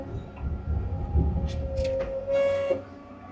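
An excavator clearing trees and brush beside a gravel driveway at three-quarter throttle, a steady loud diesel drone with a rising hydraulic whine and some knocks and clanks.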